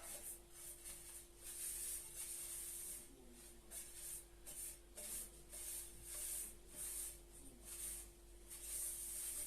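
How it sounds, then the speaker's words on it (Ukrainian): A napkin wipes a camping frying pan after a salt treatment, soft repeated rubbing strokes, a papery swish against the surface in a steady back-and-forth rhythm, close by over a faint constant hum. "беремо серветку і протираємо"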